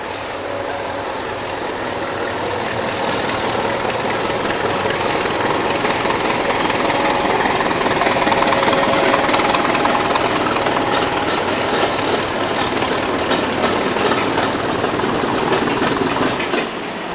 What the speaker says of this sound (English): the preserved Hastings Demu had been hired to work some Norfolk rush hour services